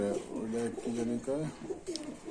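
Golden and red-necked pigeons at a pigeon sale coo in soft repeated low calls nearby, several rolling coos in a row, with quiet talk faintly underneath.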